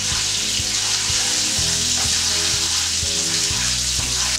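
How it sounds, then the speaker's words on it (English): Butter bubbles loudly in melted sugar caramel for French toast, a dense, steady sizzling hiss with low bursting pops throughout, close by and without speech. "Okay, now that all our sugar has been melted, just throw in butter. Just let it bubble through."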